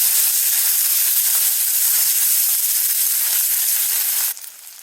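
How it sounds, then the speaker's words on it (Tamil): Shallots and curry leaves sautéing in hot oil, a steady bright hissing sizzle held close for several seconds, then cutting off abruptly near the end. "வெங்காயம் வதங்கிடுச்சு"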